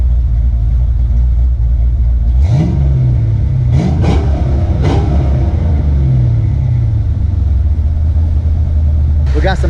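A Ford Fox Body Mustang with BBK headers rumbles at a slightly high idle close by, then gives a few sharp throttle blips that rise and fall over several seconds.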